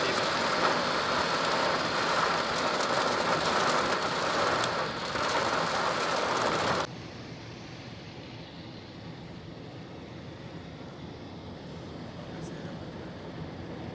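Heavy rain pours during stormy weather near a mosque, a dense loud roar for about seven seconds before abruptly dropping to a much quieter, muffled wash of rain.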